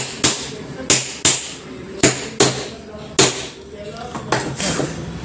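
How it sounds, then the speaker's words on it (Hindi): Hammer blows driving a starter motor end cover into place on a Commander Jeep self-starter during repair, about eight sharp metallic knocks in an irregular rhythm, close and fairly loud, with no one talking over them. "और फिर इसको हम यहाँ पे थोड़ी सी मारेंगे और इसको फिटिंग कर लेंगे इस कटोरे को।"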